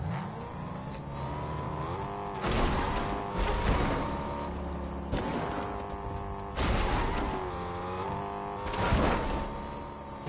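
A car in the Fortnite battle royale game drives and revs, with the engine repeatedly climbing in pitch through gear-like surges, loud and continuous with no talk.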